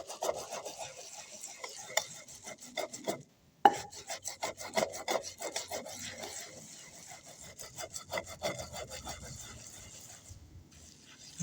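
Poppy seeds are ground by hand in a mortar, a rapid rhythmic rasping of repeated rubbing strokes, close and moderately loud, briefly pausing before resuming at the same pace.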